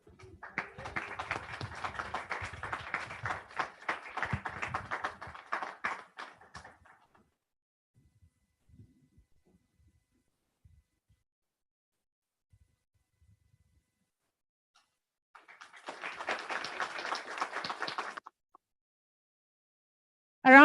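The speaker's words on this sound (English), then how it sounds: "A big round of applause for Rachel Ajambo." A graduation ceremony audience bursts into sustained applause for several seconds, falls silent, then claps again in a second shorter round of dense, steady clapping.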